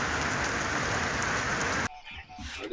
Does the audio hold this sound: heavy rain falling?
yes